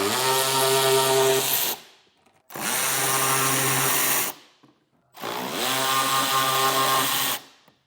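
A power tool removes the 8mm fender liner bolts on a 2024 Jeep Grand Cherokee, whirring loudly at close range in three sustained runs of about two seconds each, separated by brief pauses.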